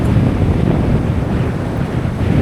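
Choppy waves on Lake Charlevoix slap against a sailboat under way, mixed with a steady roar of wind buffeting the microphone, continuous and loud with no voices.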